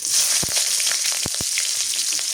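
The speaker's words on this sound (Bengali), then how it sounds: "এই যে কটা আস্ত জিরা তেলানিতে দিয়ে দিব, পেঁয়াজ কুচি দিয়ে দিই" Whole cumin seeds and chopped onion hit hot oil and fry with a steady, bright sizzle, broken by a few short clinks of a stirring spoon against the pan; no voices.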